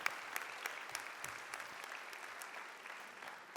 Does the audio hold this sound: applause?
yes